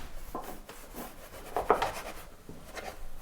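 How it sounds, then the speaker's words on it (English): A paintbrush scrubs paint onto a canvas in short, uneven strokes, close and fairly quiet, with a few sharper scrapes midway. "The scrubbing."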